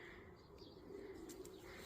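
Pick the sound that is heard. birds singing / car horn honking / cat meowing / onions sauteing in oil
birds singing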